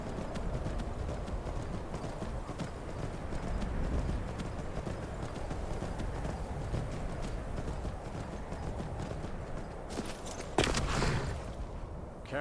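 Horse hooves clip-clop at a steady trot as a horse-drawn carriage rolls along in the video game Skyrim, continuous and fairly loud throughout, with a brief louder clatter near the end.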